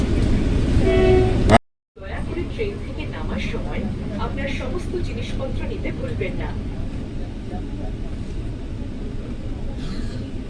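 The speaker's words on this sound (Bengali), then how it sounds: "আসানসোল স্টেশনে এসে পৌঁছলো আমাদের বন্দে ভারত এক্সপ্রেস" A Vande Bharat Express on the Howrah-Gaya run pulls into Asansol station, a steady low rumble of rolling carriages heard from inside after a brief cut, continuous and fairly loud with faint background noise.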